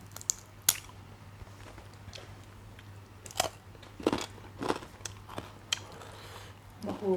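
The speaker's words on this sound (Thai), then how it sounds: "กรอบดีอินทผลัม" Crisp, sweet dates bitten and chewed up close, with a run of sharp crunchy bites and softer chewing between quiet pauses over a faint steady hum.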